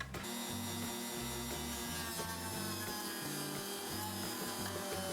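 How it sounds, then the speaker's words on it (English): A high-pitched rotary tool with a small sanding tip whines continuously as it grinds and sands a plastic 3D print, steady and close, with no talking. "I'm going to try to use this little sanding tip and cut a little circles"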